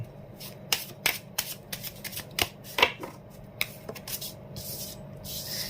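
Romance Angel oracle cards are shuffled by hand in quick, crisp bursts of flicking and sliding, close and moderately loud, with short pauses between riffles and no talking.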